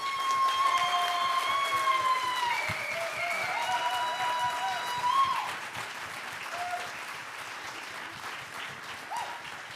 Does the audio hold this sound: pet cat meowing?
no